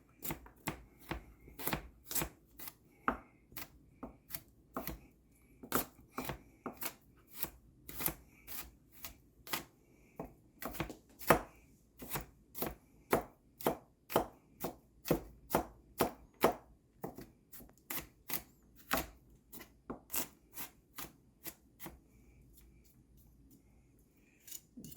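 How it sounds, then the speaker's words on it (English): Knife chopping three garlic cloves on a cutting board for a stir fry, a long run of sharp, quick taps in irregular bursts that fade near the end, close and clear with no talking. "in fact, I'll just chop up all of these. I'm taking 3 cloves of garlic."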